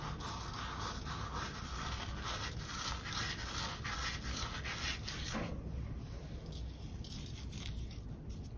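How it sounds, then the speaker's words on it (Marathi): Carom seeds (ajwain) rubbed between the palms, a close, continuous dry rustling and scratching friction that softens slightly near the end, with no talk. "ओवा असा हातावर घ्यायचा,"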